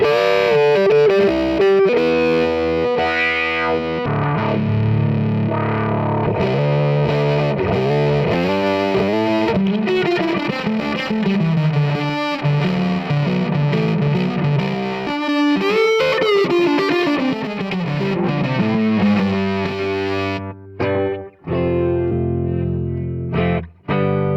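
Loud electric guitar notes and chords run through a Korg PME 40X sweeping synth filter pedal, the tone warbling and shifting continuously, alone with no talking.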